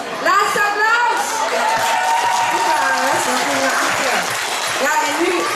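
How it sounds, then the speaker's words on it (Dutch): Audience at a village fair playback show giving a long round of applause, dense clapping mixed with cheering and a voice talking over it. "Laatste applaus."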